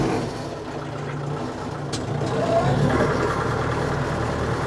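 A heavy tractor engine rumbles steadily and loudly while pulling a rotary plough through mud, a low continuous drone with a deep throbbing hum throughout.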